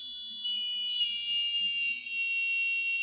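Electronic buzzer sounding in a room, a steady high-pitched continuous tone that starts softly and grows louder and stays on for the full stretch, with no talking.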